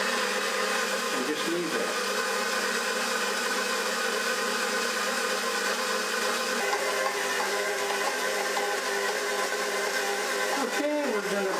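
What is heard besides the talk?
stand mixer kneading brioche dough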